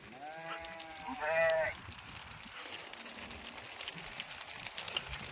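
A flock of about 150 sheep bleat several times, the calls overlapping briefly into a small chorus, over a steady outdoor rumble, then fade into open-air background noise.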